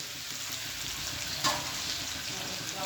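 Potato and pumpkin pieces tossed into a pan of browned chicken, a soft, continuous sizzle of frying with a faint clink of stirring midway and no talk.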